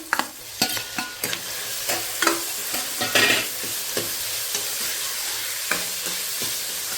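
Pumpkin curry frying in a pan as tomatoes go in makes a close, crackling sizzle with repeated stirring scrapes and clacks of a spoon against the pan, and no voices.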